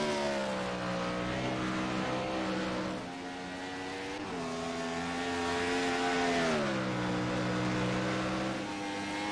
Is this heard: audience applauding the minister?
no